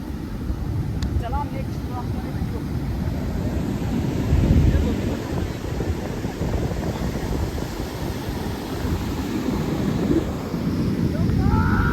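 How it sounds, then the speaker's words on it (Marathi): Sea waves roll onto the shore at Kashid beach in Alibag, a steady loud wash of surf blended with heavy wind rumble that runs continuously throughout. "या लाटा बघ त्या बघ या बघ."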